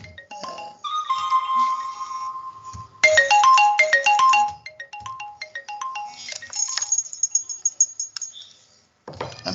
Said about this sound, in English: I'm sorry, that was a phone call.